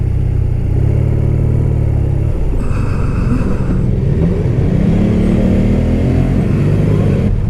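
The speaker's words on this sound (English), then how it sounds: "Interesting motorcycle." A BMW R12 nineT motorcycle engine under way, a loud steady rumbling drone with shifting pitch as the rider accelerates and eases off, plus wind buffeting, no speech.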